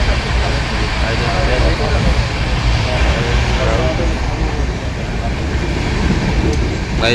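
The Howrah–Barmer Express rumbles steadily near Kanpur with a continuous low roar and rattling, heard from inside, with faint voices beneath the noise.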